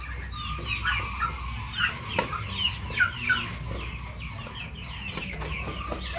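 Farmyard hens clucking and chattering in short, scattered calls over a steady low background hum, fairly close, with no talking.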